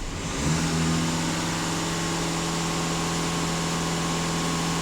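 A 2.0 TDI diesel in a Skoda Kodiak runs steadily at raised revs, a close, continuous mid-pitched drone with a constant hum and no speech over it.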